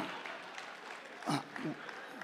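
Audience applause at a live Hindi satire and poetry stage performance in Dubai, a steady wash of clapping with a few louder bursts and voices mixed in.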